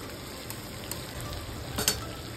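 Chicken fries in a pan as a ginger, tomato, onion and yogurt paste goes in, dhaba style. A steady close sizzle runs throughout, with faint stirring clicks and a brief louder hiss near the end.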